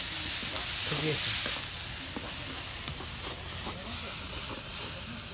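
Wild dekeria greens frying in oil with garlic in a pan give a continuous sizzling hiss, louder for the first second and a half and then settling into a steady, close fry with small stirring scrapes.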